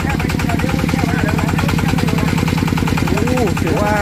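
Engine of a new multipurpose farm tractor used for plowing, hole digging and grass cutting runs with a steady, rapid mechanical chugging throughout, loud and close, with a faint rising whine near the end.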